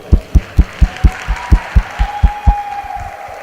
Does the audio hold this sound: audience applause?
yes